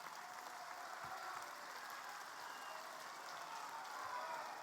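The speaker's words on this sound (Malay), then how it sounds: "Kita bagi tepukan kepada hero kita." Steady applause from a large audience at a party youth assembly, even and sustained throughout, fairly distant and without talk.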